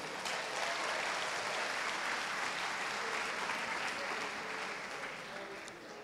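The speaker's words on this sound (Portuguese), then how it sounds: "Dá um aplauso para o Senhor aí, aleluia." A church congregation applauds together in a steady, dense wash of clapping that holds for about six seconds and eases slightly at the end, with no talking over it.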